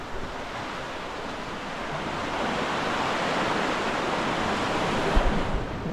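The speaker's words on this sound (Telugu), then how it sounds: "వెనకాల అలలు చూడండి ఎట్లా వస్తున్నాయి" Ocean waves break on Sethapalem beach in a steady, close roar of surf that swells slightly louder toward the end, with no voices.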